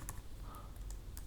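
Quiet, fast keystrokes patter on a computer keyboard as code is typed, a few sharper clicks standing out above a faint steady background hiss.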